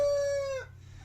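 A Black Mottled bantam rooster lets out a single short crow, a steady held note that breaks off after half a second, fairly faint and close, with a low hum beneath.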